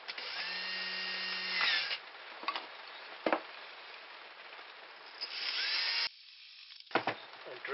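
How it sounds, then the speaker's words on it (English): Power drill boring a hole in wood to fit a dowel for a homemade toggle clamp, whirring in bursts close by with short pauses and handling knocks between runs. "Drill your hole."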